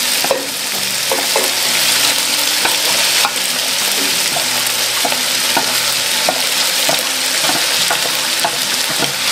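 Yakisoba noodles and vegetables frying in a stainless steel pot, a steady loud sizzle with occasional stirring scrapes and clinks, no voices.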